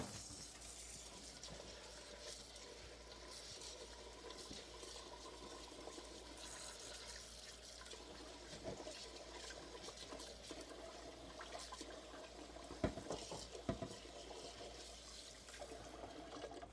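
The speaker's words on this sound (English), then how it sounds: "Now I'm ready to put in the amount of water for my rice" Water poured into rice in a pot, a steady faint trickling and splashing that runs throughout with a few brief louder spatters, no talking.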